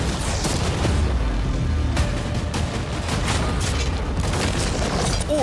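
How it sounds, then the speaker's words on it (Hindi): Cannons firing cannonballs at a yacht give a dense, continuous roar of booms and crashing impacts, loud and close throughout with no pause. "अब हम तुम्हारी नई यॉट पर कैनन्स को शूट करने वाले हैं"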